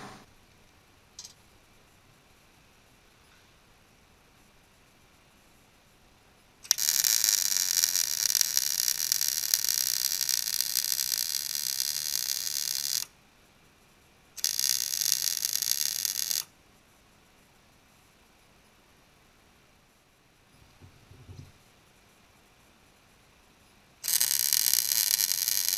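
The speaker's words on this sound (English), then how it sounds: "that's gonna continue doing some welding" Welding on a metal frame cart comes in several long bursts of steady, loud crackling hiss, broken by quiet pauses.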